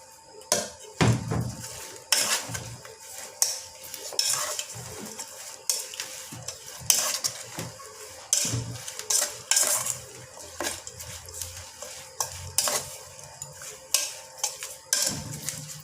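A utensil stirs fish with spring onions, lemongrass and lemon basil leaves in a pan, scraping and clinking against the metal in irregular strokes over a faint sizzle.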